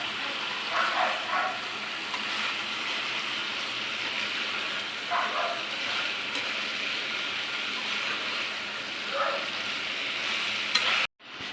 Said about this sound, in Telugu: ఇలా హై ఫ్లేమ్ మీద పెట్టుకొని అన్నీ బాగా మిక్స్ చేసేసుకోవాలండి.